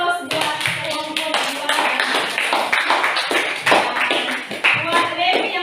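Classroom applause for a student group: a sustained round of many hands clapping loudly and irregularly, with voices mixed in under the clapping.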